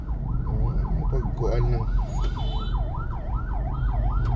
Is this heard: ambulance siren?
yes